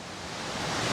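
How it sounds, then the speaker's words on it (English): Uçansu waterfall in Gündoğmuş, Antalya, roars as a steady, broad rush of falling water, continuous and unbroken for about a second with no voices. "beautiful waterfall here."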